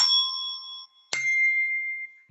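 A desk bell is struck twice, each strike giving a bright, clear ringing note that sustains and fades, the second note pitched differently from the first, with no talk.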